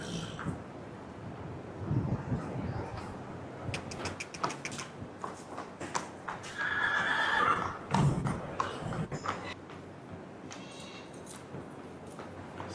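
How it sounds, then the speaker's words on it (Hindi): Horses at a stud farm, with a loud neigh rising clearly midway and scattered hoof clip-clops and stamping around it. "नूरे घोड़े ने बहुत अच्छे बच्चे पैदा किए हैं जी अभी तक।"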